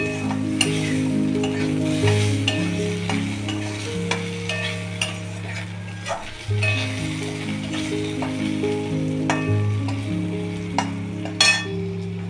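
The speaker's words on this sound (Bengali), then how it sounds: "ভাজা হোক একটু আলুটা" Potato pieces fry in a pan for a homestyle pomfret fish dish, giving a continuous sizzle with occasional clinks and scrapes of a spatula against the metal, close by and fairly loud, with no talk.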